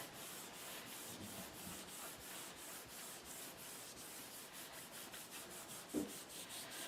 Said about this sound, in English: Pop that on top and give it a rub.